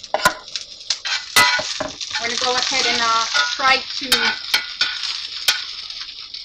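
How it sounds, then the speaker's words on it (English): Onions sizzle and fry in hot oil in a cast iron pot, a steady crackling hiss broken by sharp utensil clanks and stirring, with a voice speaking over the cooking. "When you hear your sizzle,"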